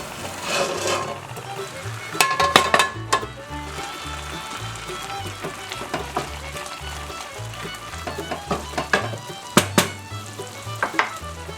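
Sautéed chicken sizzles steadily in a pot with spinach while a utensil scrapes and clatters through repeated stirring strokes, close and fairly loud.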